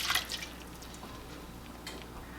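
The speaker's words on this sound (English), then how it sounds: "I'm going to run just a tiny bit of water just to get that little bit on the sides" A brief burst of running water splashes into a ricer full of cooked mulberries, then fades to faint drips and quiet trickling.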